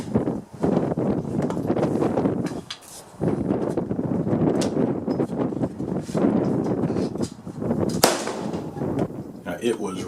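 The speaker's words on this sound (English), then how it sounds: "it was really windy out there today" Strong gusting wind buffets the microphone at an outdoor rifle range, steady and loud throughout, with a sharp rifle shot cracking out near the end.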